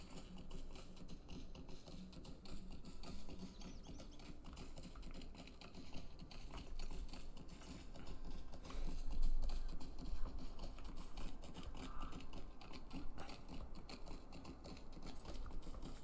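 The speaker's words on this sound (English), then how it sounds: "Guess I can hop on our horse." Horse hooves clip-clop steadily in Lord of the Rings Online, a continuous rhythmic trot of a ridden horse in the game, mixed with ambient game sound and occasional clicks throughout.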